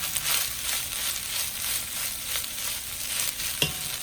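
Thai crab fried rice tossed in a hot pan with cooked crab, a loud steady sizzle with rhythmic scraping stirs and one sharper knock near the end.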